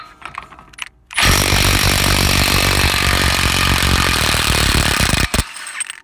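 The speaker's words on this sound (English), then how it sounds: "Let's try the mid torque on this wheel lock nut." After a second of quiet, a Milwaukee mid torque impact wrench hammers hard on a wheel lock nut of a 2004 BMW with a 2.5 engine, a loud, sustained rattling burst of about four seconds that stops abruptly.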